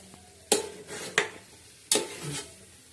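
A spoon stirs semolina (rava) roasting in a pan, three sharp scraping strokes at uneven intervals over a faint sizzle, close and with no talking.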